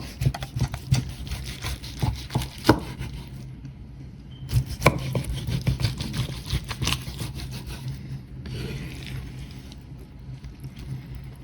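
Sauced spare ribs from a fireplace cook being sliced on a board, with a series of close knife chops and soft wet squishes, irregular in rhythm and pausing briefly midway.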